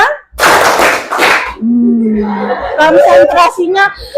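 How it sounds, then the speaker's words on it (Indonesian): Classroom pupils clap in counted rhythm patterns. Short bursts of group claps alternate with a voice calling out the counts, and there is a little chatter and laughter. "Tepuk 1, tepuk 5, tepuk 3."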